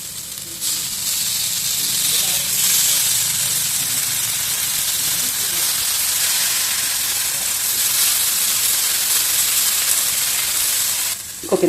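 Dosa batter and coconut oil sizzle loudly on a hot pan, a bright, constant hiss that runs unbroken for several seconds and stops sharply at the end.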